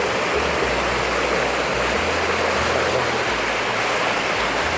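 Floodwater of the Chi River rushes loudly and without pause past a blocked, sandbagged point near Mueang Maha Sarakham, a dense, roaring wash of water close by.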